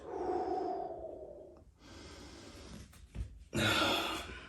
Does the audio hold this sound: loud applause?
no